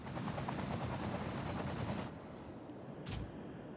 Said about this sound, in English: Whoa, helicopters and balloons right next to each other.